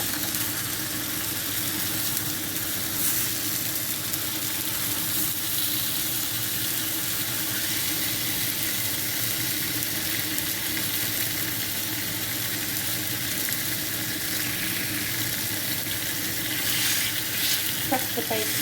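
Bacon, mushrooms and tomato fry together in one pan, a steady dense sizzle that crackles on without pause, close and fairly loud, with a few faint clicks near the end and no voices.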